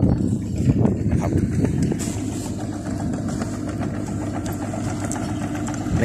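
The diesel engine of a Kubota KX91-3 mini excavator idles steadily and close by, with a low rumble and faint clanking over it.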